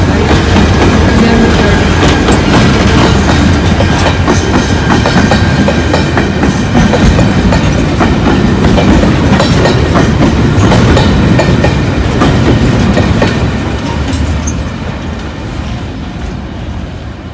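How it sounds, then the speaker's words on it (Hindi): Container train rolling through a station in Karachi, Pakistan: a loud, steady rumble with rhythmic clickety-clack of wheels on rail joints and faint squeals, continuous for most of the span and easing slightly near the end. "एक कंटेनर ट्रेन आ रही है"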